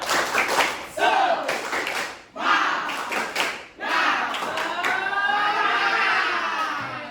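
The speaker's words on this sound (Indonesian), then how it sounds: "sekarang kita tepuk semangat ya" A classroom group claps a rhythmic cheer, with bursts of hand claps and shouts arriving in quick patterned waves, close and loud, pausing briefly between phrases before a long sustained final burst.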